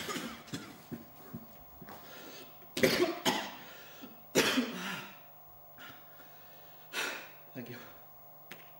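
A man coughs in several harsh, close bursts at irregular intervals, with breaths and throat sounds between them.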